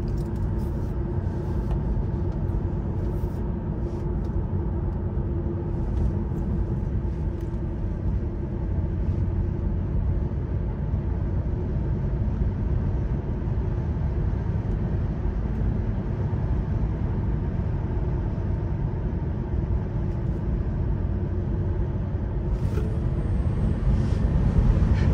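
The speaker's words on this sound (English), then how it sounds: "It's still mental how fast this car is" Tesla Model 3 Performance surging hard from inside the cabin, a steady low electric-drive hum and road rumble that swells slightly toward the end, with no voices.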